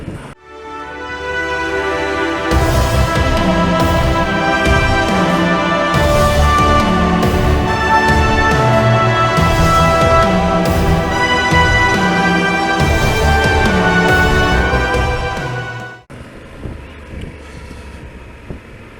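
A motorbike on its first ride of the year, its engine droning steadily with heavy wind buffeting the microphone, loud and continuous before dropping to a quieter idle near the end.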